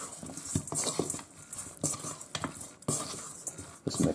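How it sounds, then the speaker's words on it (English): Silicone spurtle stirring seasoned frozen chicken wings for a Ninja Foodi mustard wing recipe, giving close, irregular wet patters and scraping clicks in short bursts with brief pauses between strokes. "So I'm going to first season it with that, mix it up."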